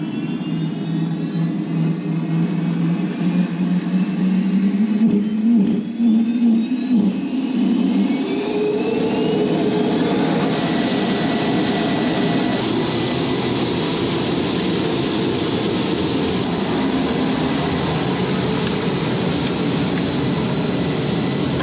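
An aircraft turbine engine cranks and lights up, its whine climbing steadily in pitch before settling into a loud, sustained roar close by.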